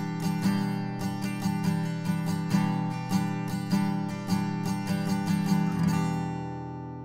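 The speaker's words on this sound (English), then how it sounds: "And playing with a loose grip sounds like this." Acoustic guitar strummed with a loosely held pick, a continuous run of quick even strokes with softer attacks, close and moderately loud, alone until the last chord rings out.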